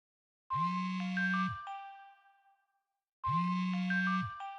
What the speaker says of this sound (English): The phone call.